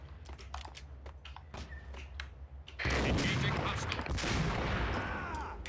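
Gunfire in the Max Payne shooter game, scattered single shots at first, then a dense, loud burst of rapid automatic fire lasting several seconds, with someone shouting over it.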